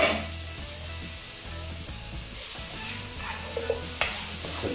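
Peppers cooking slowly in a covered pan over minimum heat in a little leftover oil from the pork, giving a soft, steady sizzle with faint stirring and a few small clicks near the end.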